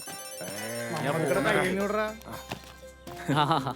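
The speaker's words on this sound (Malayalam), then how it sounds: "വീണ്ടും ഫോൺ വന്നു. ഫോൺ എടുക്ക് നീ." A telephone ringtone sounds in a scene from a Malayalam drama film, its tonal ring woven under and between people talking nearby.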